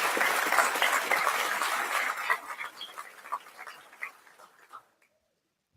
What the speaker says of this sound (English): let us give them a round of applause on a fantastic career